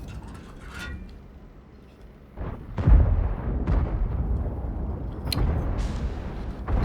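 Tank guns fire high-explosive shells in the game World of Tanks, with a few heavy booming blasts that rumble low and then trail off, heard up close after a quieter mechanical stretch.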